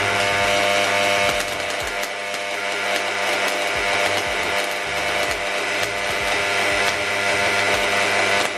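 Stick welding on thick plate with a transformer welding machine set to DC gives a continuous loud buzzing hum laced with crackling sputter, steady throughout and close by.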